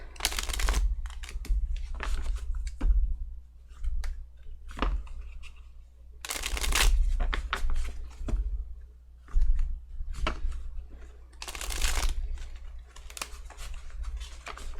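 Steady papery riffling and soft slapping of tarot cards being shuffled up close, in repeated bursts with brief pauses, with no talking.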